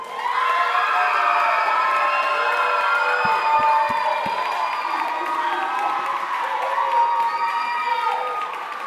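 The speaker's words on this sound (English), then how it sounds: "one last round of applause." Campers at a music and worship arts camp cheer, whoop and applaud soloists at a recital, a loud, dense crowd roar filling the room and holding steady throughout.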